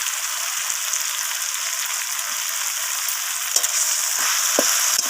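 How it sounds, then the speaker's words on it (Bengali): Chopped cabbage with spices sautéing in a pan for a fish-head cabbage curry, a loud continuous frying hiss with a few spatula scrapes and knocks near the end. "তো বাঁধাকপিটা আমি দিয়ে এইভাবে সব কিছুর সাথে কষাতে থাকছি।"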